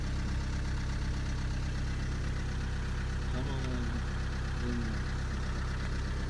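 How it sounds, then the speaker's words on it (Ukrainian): A Volkswagen Passat B7 with a 2.0 diesel engine idles just after starting, a steady low drone throughout with faint voices briefly over it. "заводиться ідеально, з півточка"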